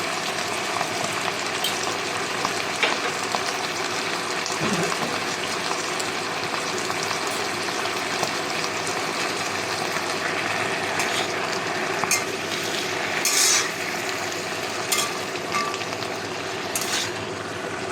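Leafy greens with salt and turmeric stirred in a sizzling pan, a steady close frying hiss with light scraping and clinks throughout, no voices.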